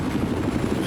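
Helicopter in Battlefield 4, a brief, close, continuous low rotor thrum with rapid pulsing chop and no voices.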